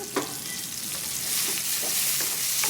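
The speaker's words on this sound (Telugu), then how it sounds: "దీనిలోకి వన్ టేబుల్ స్పూన్ పల్లీలు వేసుకోవాలి ఈ పచ్చి వేసుకొని రెండు నిమిషాలు ఫ్రై చేసుకుంటే సరిపోతుంది" Tamarind and peanuts fry in a pan, a brief close sizzle with a few scraping stir strokes and no voices.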